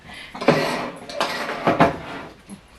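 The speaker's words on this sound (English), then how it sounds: "I have some tongs here to help flip it" Metal tongs clinking against an air fryer basket while a turkey breast is flipped, with a few close, sharp scrapes and taps in short bursts.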